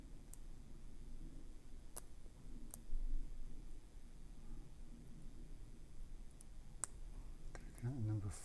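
Faint, sharp clicks of lock pins setting as a lock is picked with Le Corbeau picks, sparse single ticks over a steady background hiss, with a voice speaking quietly at times.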